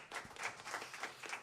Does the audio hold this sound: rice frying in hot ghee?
no